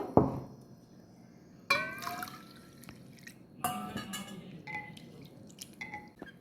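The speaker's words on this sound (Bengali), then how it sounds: "এই চালটা আমি বারবার জল পাল্টে পাল্টে ধুয়ে ঘন্টা দুয়েক মতো ভিজিয়ে রাখবো" Rice is washed in a bowl of water for a Bengali milk sweet, with intermittent sloshing, splashes, drips and light clinks of the bowl at close range and no voices.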